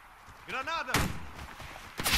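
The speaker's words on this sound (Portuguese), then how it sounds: "Granada!" A grenade going off in the video game Warface, a sharp loud burst landing about a second in and a second blast at the end, mixed with a voice speaking and game noise.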